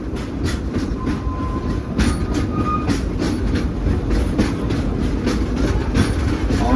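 A train with military and veterans aboard rolls along the rails near Potterville, Missouri, its loud steady rumble broken by rhythmic clickety-clack wheel beats and a few faint squeals, heard from on board.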